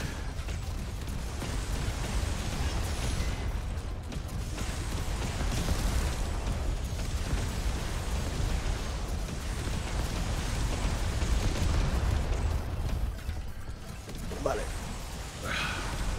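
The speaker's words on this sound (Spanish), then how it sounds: "Joder, las explosiones, sí." Dense, continuous bursts of explosions from Yet Another Zombie Survivors, a busy crackling and booming wash that keeps going under a game soundtrack.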